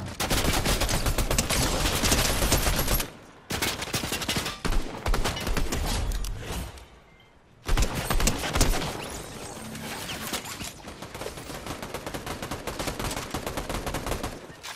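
Loud, rapid gunfire in a Fortnite duo match, including a legendary shotgun, comes in dense bursts broken by two short pauses before resuming.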